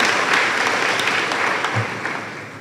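Graduation ceremony audience applauding the graduating students, a dense, loud wash of clapping that holds steady then slowly fades toward the end.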